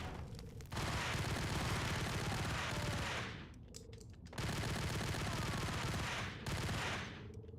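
Sustained bursts of dense gunfire from the Max Payne video game, loud and continuous, broken by two brief lulls before the shooting resumes at full intensity.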